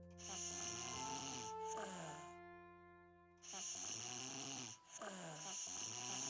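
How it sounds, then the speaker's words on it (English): A sleeping beaver in the video game Timberborn snores in slow, rhythmic cycles, each drawn-out rumbling inhale followed by a pause, soft and close over a faint game background. "The sleeping beaver snoring is very cute when you click on the houses."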